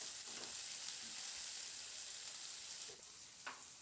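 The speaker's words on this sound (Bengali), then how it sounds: "এবার টমেটোটা দিয়ে 2 মিনিট মতো একটু নাড়াচাড়া করে নেব পেঁয়াজের সাথে।" Chopped tomatoes and onions fry in a pan with a faint, steady sizzle and a couple of light stirring scrapes near the end.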